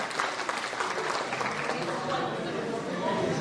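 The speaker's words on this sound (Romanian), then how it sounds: "Mâinile sus, aplauze!" Sustained audience applause fills a ball event hall, dense steady clapping from a large crowd with voices mixed in, loud and continuous throughout.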